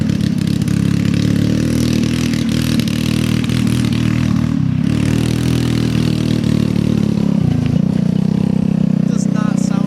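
A wrecked go-kart's small engine runs rough and sputters while driving, a loud, uneven mid-pitched drone with fluctuating revs up close, and a voice speaks briefly over it.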